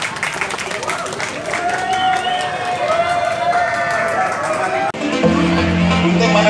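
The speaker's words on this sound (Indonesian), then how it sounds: "Tepuk tangan untuk penari kita." An audience applauds dancers at a university launch event, with a mix of clapping and crowd chatter. A voice talks through it, and the sound drops briefly near the end before the crowd noise changes character.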